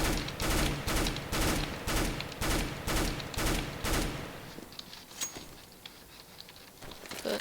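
Rapid automatic P90 submachine gun fire in CS:GO, a fast rattling stream of shots in repeated bursts for about four seconds, then scattered fainter clicks and game noise.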